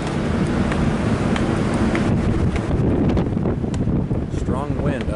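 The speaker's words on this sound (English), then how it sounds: "Strong wind up here. Very strong wind." Strong wind buffets the microphone on the open upper deck of a cruise ship on an Alaska trip, a loud, continuous roaring rumble throughout.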